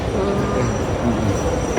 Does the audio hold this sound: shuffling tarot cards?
no